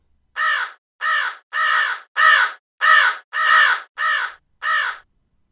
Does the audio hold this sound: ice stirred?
no